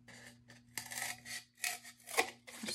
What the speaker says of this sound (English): I'm gonna go ahead and cut a square out of the back side.